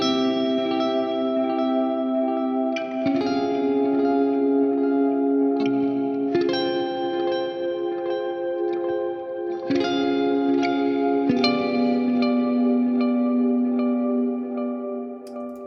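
Electric guitar through a Line 6 Helix metal preset with a delay block, sustained clean chords that ring out and trail into repeating echoes, each new chord changing the shimmering wash, no talking.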